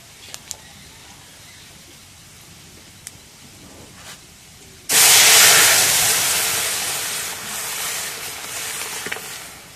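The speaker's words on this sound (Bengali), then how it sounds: "এখন পেঁয়াজ রসুন ভাজা হয়ে গেছে, এখন ডালগুলো ঢেলে দিই।" Red lentils are tipped into a karai of hot oil with fried onion and garlic. After a few quiet ticks, a loud sudden hiss bursts out and then slowly fades into a softer bubbling sizzle. No one talks.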